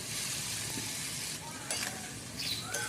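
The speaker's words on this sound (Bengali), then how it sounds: "তো এইভাবে নেড়ে চেড়ে নিচ্ছি আমি।" Pumpkin curry with Malabar spinach simmers and sizzles softly in a pan, with faint scraping and clinking as it is stirred, fairly quiet and close.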